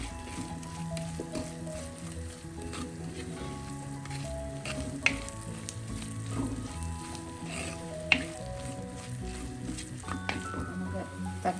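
Spice masala sizzles in hot oil while being stirred for a spicy sole fish curry, a steady close frying hiss with occasional scraping clicks, and a voice speaks over it.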